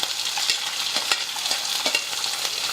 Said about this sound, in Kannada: ಉಳ್ಳಾಗಡ್ಡಿನೂ ಹಾಕ್ಕೋತೀನಿ ನೋಡಿರಿ.